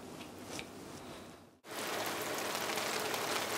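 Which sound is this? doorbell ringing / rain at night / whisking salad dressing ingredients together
rain at night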